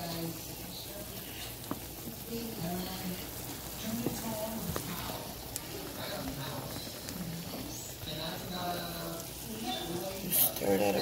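Pork chops fry in butter in a pan while being stirred, giving a steady low sizzle with faint scraping under a continuous stretch of talk.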